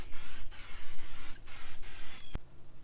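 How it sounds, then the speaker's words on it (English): Olive oil is sprayed onto Weber grill grates in several quick hissing bursts, each a short puff with gaps between, followed by a brief sharp click near the end. "I'm going to put just a little bit of olive oil on there"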